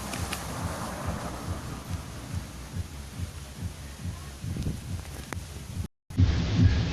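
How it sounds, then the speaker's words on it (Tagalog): Heavy wind buffets the microphone in low rumbling gusts, steady and loud, cutting out briefly before resuming, in Torrijos, Philippines. "Lakas ng hangin ah."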